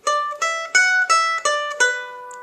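A solo fiddle plays the first measure of the fiddle tune The Frost is All Over: six close, clearly bowed notes in an even, lilting triple rhythm, each attack distinct and ringing with bright overtones.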